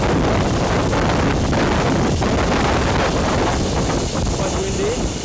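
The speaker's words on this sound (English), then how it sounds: "Quite windy" Strong wind buffets the microphone beside an Air France A340-300 airliner, a loud, continuous rumbling roar, gusting throughout without pause.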